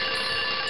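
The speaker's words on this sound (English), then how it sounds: "An alarm clock? That's a great idea." A loud, continuous electronic alarm clock ringing with a bright, sustained tone, close and steady throughout with no talking.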